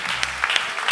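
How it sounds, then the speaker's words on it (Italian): Brief applause from a show audience at the Gran Caffè Liberty in Viareggio during a Carnevale song contest, a dense patter of clapping with a few sharper claps standing out, close and fairly loud. "Questo applauso è per te"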